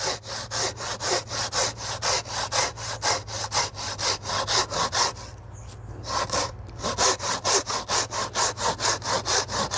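A Japanese hand saw cuts through wood in fast, rhythmic back-and-forth strokes, pausing briefly midway before resuming the steady rasping.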